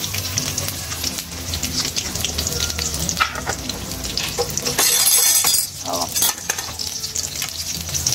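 Green chilies and tomato pieces, with chopped onion, frying in a pan for a rupchanda fish curry, a loud steady sizzle with stirring clatter, flaring into a brighter hiss midway.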